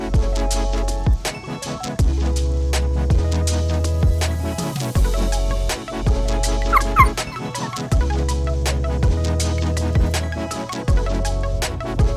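A puppy whimpers and yips in repeated short, high cries, close by and fairly loud, recurring through a steady background.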